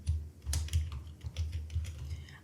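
Month names being typed into an Excel sheet on a computer keyboard: a quick, irregular run of close key clicks with a few slightly louder taps and no speech.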